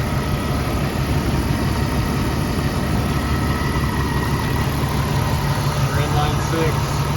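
A completely rebuilt 1983 Jeep CJ7 with a fuel-injected 4.2 L inline six idles in a steady, even low rumble that stays close and constant throughout.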